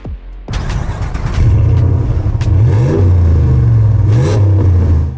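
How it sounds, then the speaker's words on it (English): A truck with a full custom exhaust fires up and revs hard to the rev limiter. The engine note is loud and close, climbing in pitch and bouncing off the limiter several times in a stuttering rhythm. "everybody knows my move is started up straight to rev limiter."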